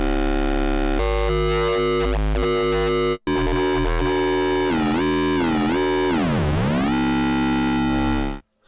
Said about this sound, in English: And then we've got FM ratios from 1 to 8 as well.